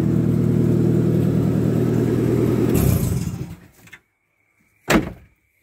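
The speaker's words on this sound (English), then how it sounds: "So I've unbolted half the exhaust, hence the excessive noise" Car engine idling loudly with half the exhaust unbolted, a raw throbbing drone that cuts off after about three seconds, followed by a short clunk.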